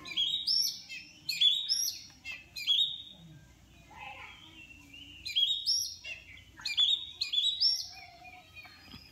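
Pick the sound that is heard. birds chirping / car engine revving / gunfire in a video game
birds chirping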